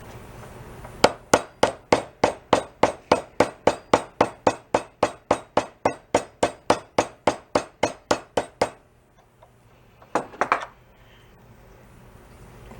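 About thirty sharp, evenly spaced hammer taps land close by as a rusted part is driven into a cheap garage-sale pressure washer. They stop, and after a brief pause a short cluster of quicker knocks follows.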